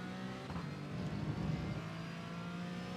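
A Porsche Cayman 718 GT4 in iRacing at Road America accelerates out of a corner, its engine note rising steadily and holding a sustained, moderately quiet drone throughout.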